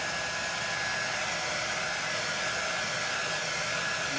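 A hair dryer blows steadily to dry wet paint on a double-sided winter A-frame craft, a loud constant whoosh with a faint tonal whine running throughout, with no talking.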